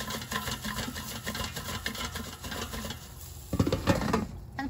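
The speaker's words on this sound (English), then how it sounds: "let's take out the air fryer basket and shake the potatoes so they cook evenly" Sweet potato cubes rattle and patter as they are shaken in a metal air fryer basket, a busy stream of small taps that turns into a few louder clatters near the end.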